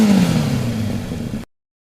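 Kawasaki ZX25R motorcycle fitted with an OC aftermarket exhaust, warming up with a loud, close, steady rev for about a second and a half before cutting off abruptly to silence.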